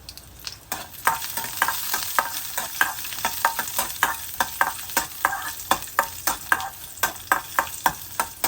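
Ginger, garlic and chillies frying in hot oil, a spoon scraping and stirring through them in a steady rhythm of clicks over a continuous sizzle, close up with no talking.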